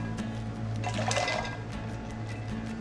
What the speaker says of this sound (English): So I've got a couple of cups of ice cold water here.